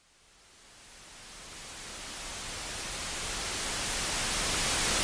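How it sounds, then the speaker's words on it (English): A broad steady rush of pink noise fades in from near silence and swells gradually louder, with no other sounds. "the sound of pink noise"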